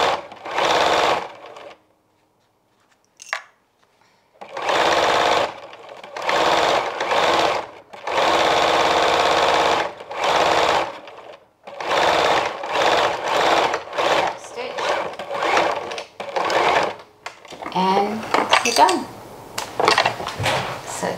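A sewing machine runs in several bursts of stitching while making a motorhome bedside organiser. The bursts are loud and close, separated by short pauses, and a person speaks between and over them.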